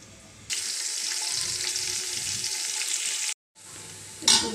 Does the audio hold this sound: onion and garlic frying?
yes